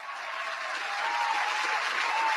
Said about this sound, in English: Round of applause to everybody out there.